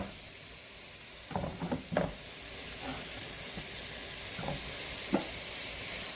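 Tomato cooking in a frying pan for keto chicken chipotle gives a steady soft sizzle and hiss, broken by a few clinks of stirring, all fairly quiet with no talking.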